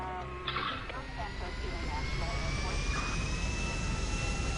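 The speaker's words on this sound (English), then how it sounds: "We have a helicopter down near" A loud, steady helicopter engine drone in the video game GTA 5 fills the clip, with a faint whine rising over it and voices talking underneath.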